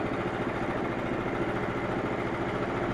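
Engine on a HotRod Frontier sawmill during its first test run, a continuous, evenly pulsing mid-pitched chug at steady throttle, close and moderately loud with no talk.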